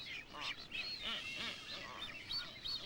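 A colony of blue-footed boobies at Punta Vicente Roca on Isabela in the Galapagos calls out, with overlapping whistles and honking squawks from several birds, moderately near against steady surf-like noise.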